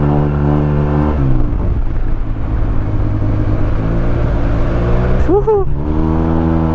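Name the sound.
Yamaha TMAX 560 scooter revving, Malossi full exhaust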